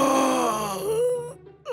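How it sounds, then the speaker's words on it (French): A single long, drawn-out yawn from a man, loud and close, the voice sliding downward in a groaning moan before trailing off with a short breath. "Quel grand bâillement!"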